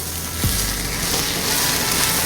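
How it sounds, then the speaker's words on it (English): Steak and root vegetable hash sizzles steadily in a hot pan, with a brief scrape of stirring early on and a constant loud crackling frying hiss throughout. "I'm gonna give that a stir"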